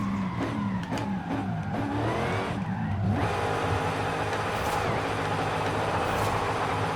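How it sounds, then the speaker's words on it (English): Supercharged car in Forza Horizon 5, engine revving with a rising and falling whine that sweeps through gear changes, then settles into a loud steady roar with brief tire noise. "It's just that supercharger whine. Love it."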